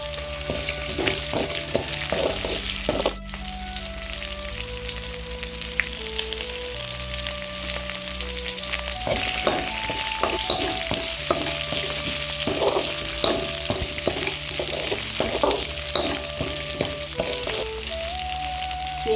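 Onions and curry leaves sautéing in a pan for an avaram flower chutney, giving a continuous sizzle with frequent stirring clatters, while steady tonal music plays throughout.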